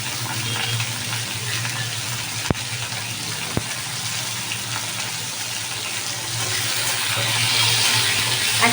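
Diced potatoes, chickpeas, tomatoes and green chilli sizzle in hot oil in a pan, making a continuous, dense crackling hiss that swells slightly toward the end, with no talking.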